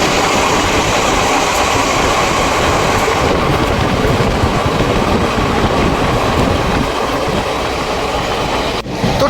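Loud, continuous rumble and rattle of the 20402 superfast express running on the rails, heard from on board an Indian Railways train, with steady clatter throughout and a brief drop near the end.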